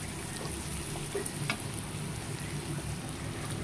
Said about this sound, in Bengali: মশলাটা খুব ভালো মতো কিন্তু কষিয়ে নিতে হবে